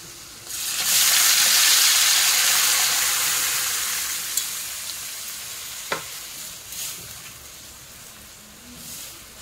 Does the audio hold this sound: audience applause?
no